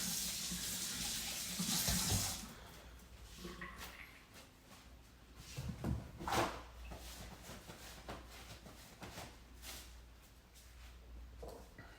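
Tap water runs in a kitchen to rinse something during cinnamon-roll baking: a loud, close gush for about two seconds, then quieter clinks and handling noises with faint trickles.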